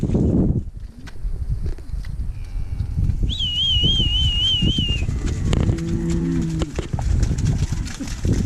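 Dairy cows moo faintly amid shuffling and knocking in a barn, with a high whistle and scattered clatter nearby.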